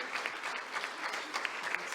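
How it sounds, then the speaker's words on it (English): Steady applause from a conference crowd, continuous clapping with scattered louder claps, no voices standing out. "That deserves a round of applause."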